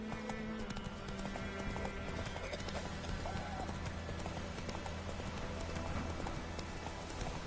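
Roach the horse gallops in a video game, with rapid, even hoofbeats thudding close and loud through the whole stretch over a steady ambient bed, and no voices.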